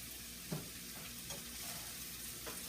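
Spiced jambalaya ingredients with cayenne being stirred in a pan, giving a steady low sizzle with a few soft scraping strokes spaced about a second apart, close and fairly quiet, with no voices.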